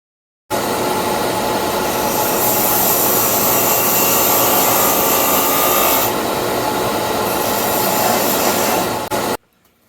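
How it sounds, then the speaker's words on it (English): A steady, loud mechanical whir of a power sander on wood runs without a break for several seconds, then cuts off abruptly. "I just got done sanding"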